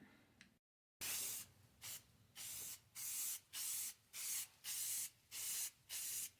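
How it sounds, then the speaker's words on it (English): Krylon satin white spray paint hissing from the can onto a wooden cube snowman, about ten short loud bursts in a quick even rhythm, each separated by brief pauses. "I'm gonna spray paint this, satin white."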